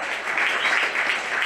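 Brief applause from a live podcast audience in Ham-Nord, a steady patter of clapping held at one level throughout.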